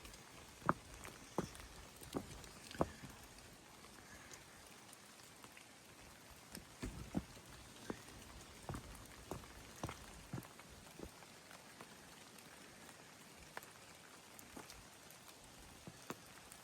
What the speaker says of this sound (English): so you can hear how beautiful this rain sounds